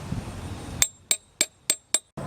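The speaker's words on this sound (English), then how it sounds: "Use a big socket and a hammer and lightly tap it in." A hammer lightly taps a large socket to seat a silicone-coated valve cover seal on a Camry V6, five crisp metallic clinks at an even, unhurried pace after a moment of shop noise, ending with a short rustle.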